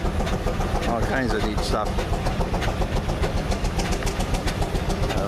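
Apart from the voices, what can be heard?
old coal and wood burning steam engine running at tractor show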